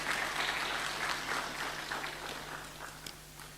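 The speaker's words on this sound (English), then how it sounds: "Can we give them a round of applause?" Steady applause from a statistics conference audience, a dense wash of clapping that holds throughout and fades slightly toward the end.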